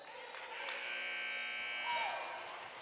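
An end-of-quarter buzzer at a women's college basketball game between VolState and Walters State sounds as one sustained, droning blare of about two seconds over faint arena noise.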